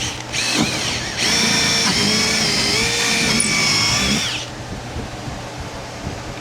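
A power drill bores a new hole to bolt a seat onto a boat, its whining motor running loud and close for several seconds, rising in pitch as it spins up, then cutting off into a quiet hum.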